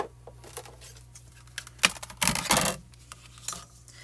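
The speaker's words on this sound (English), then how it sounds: "we're going to run this through my Gemini Junior and die cut it." A Gemini Junior die cutting machine runs with a low steady motor hum under scattered clicks and a louder grinding, rattling burst midway as the plates feed through.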